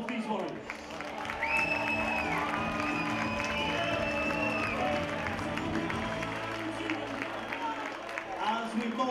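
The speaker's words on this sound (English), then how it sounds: "let's show one more round of applause for both these warriors" A crowd at an amateur boxing event at the Forum applauds both fighters, moderate clapping and cheering spread across the hall while an announcer's voice carries over it.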